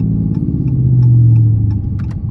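An Infiniti G35's engine rumbles close by during a downshift, its low growl swelling for about a second before settling back, with a few small metallic clinks above it.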